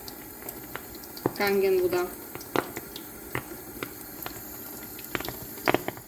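Hydrogen-rich Kangen water is lit with a lighter, giving a few small, sharp pops and lighter clicks spread over several seconds while someone talks.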